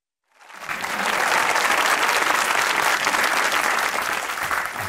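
Audience applause swells quickly from silence into sustained, loud clapping from a sizeable crowd, continuing steadily throughout.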